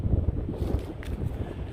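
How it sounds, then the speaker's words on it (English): Strong wind on an Appalachian Trail mountain ridge buffets the microphone in a steady, gusty low roar with no other sounds. "You can hear the wind."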